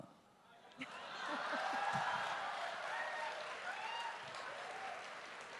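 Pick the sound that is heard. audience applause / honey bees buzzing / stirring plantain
audience applause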